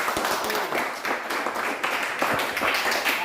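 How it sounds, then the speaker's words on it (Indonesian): A classroom of students claps for a group presentation: a brisk patter of many hands, moderately loud and steady throughout, with a faint voice underneath. "Oke, kasih tepuk tangan dulu."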